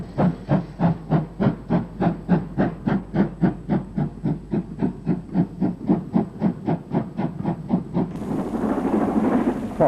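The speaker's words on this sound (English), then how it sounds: "This is Castle Class 460 locomotive number 5063, Earl Baldwin," Castle Class steam locomotive 5063 Earl Baldwin hauls an up express at Banbury, giving a long run of rapid, evenly spaced exhaust chuffs that then give way to a steady roar.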